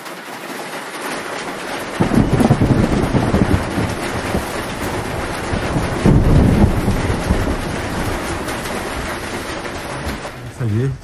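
Rain and wind batter a shelter at night in the mountains, heard from inside as a constant rushing roar with gusty surges and rattling buffets, loud and close throughout.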